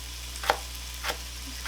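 Spicy fish cakes sizzle steadily in a pan, a low constant fry broken by three brief stirring scrapes at regular intervals.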